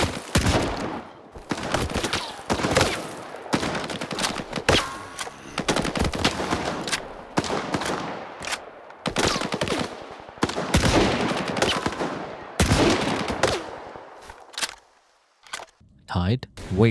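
Gunfire from the video game STALKER comes in repeated sharp bursts of rapid automatic shots. Short pauses separate the bursts, which are loud and close throughout, with a quieter stretch near the end.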